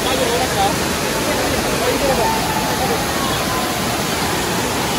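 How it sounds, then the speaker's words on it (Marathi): Amboli waterfall pours in a dense, loud, continuous roar of rushing water, with the faint babble of a crowd blended underneath. "This is the view of Amboli धबधबा"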